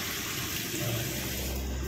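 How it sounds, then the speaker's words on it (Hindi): Water runs steadily from a newly fitted tap on an under-counter wash basin, a close, continuous splashing flow with no voices. "नल को फिट हो गया, ये हमारा पानी स्टार्ट हो गया है।"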